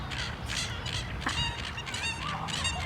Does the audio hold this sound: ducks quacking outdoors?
yes